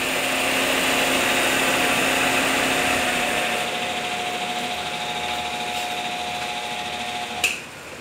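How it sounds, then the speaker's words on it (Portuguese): Chevrolet Onix radiator cooling fan running steadily on an overheating car, a constant whirring hum that eases slightly midway, with a brief click near the end. "a ventoinha não desliga"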